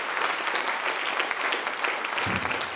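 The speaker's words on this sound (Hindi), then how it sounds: "एक बार आप सभी के लिए जोरदार तालियां" A seated audience at an Ayurvedic health talk breaks into loud, dense applause that holds steady throughout.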